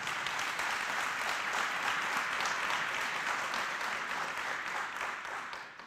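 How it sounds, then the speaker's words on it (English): Sustained applause from the gathering at a memorial service honours the late woman, a full, even round of clapping that tapers off slightly at the end. "I think you need to give her a round of applause."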